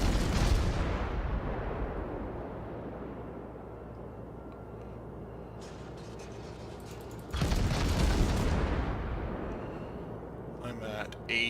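Heavy naval guns boom in World of Warships as a cruiser battle plays out, with two big broadband blasts, one at the start and one near eight seconds, each trailing into a long rumbling decay over a steady engine-like drone.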